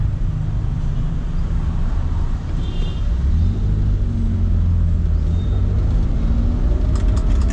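Stop-and-go road traffic in an Indonesian traffic jam rumbles continuously as a heavy low engine drone heard from inside a Toyota Corolla KE30, steady with no speech.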